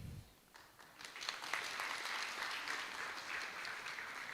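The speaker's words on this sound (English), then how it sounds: "So, with a huge round of applause, let us welcome each one of you present over here." Applause rises quickly from a conference audience welcoming a dignitary, building into a full, sustained round of clapping in a hall, moderately distant.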